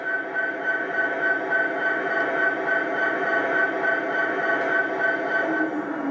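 An MTH G scale SD70ACe model diesel locomotive plays its engine sound through a large onboard speaker, a steady droning rumble with a few faint clicks, alone and fairly loud.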